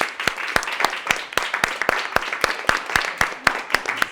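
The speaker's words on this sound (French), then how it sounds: "un grand merci, un grand applaudissement pour eux." An evening event audience applauds its presenters, sharp individual claps landing loudly in an irregular rhythm close by amid a softer background of clapping.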